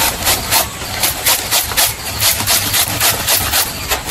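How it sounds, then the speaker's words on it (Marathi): Cucumber rasped against a hand grater in a village kitchen, loud and close, with quick rhythmic scraping strokes repeating steadily, roughly three per second, with no talking. "तर मी आता ह्या किसून घेते."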